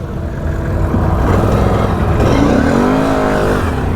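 Off-road four-wheel-drive vehicle in low range at Busco Beach, engine revving steadily and loudly with a rising whine midway, close by and continuous with no talking.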